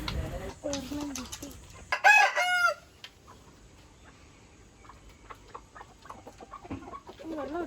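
Farmyard chickens cluck near a water dish while a rooster crows once in a short burst, with scattered clucks and faint background voices around it.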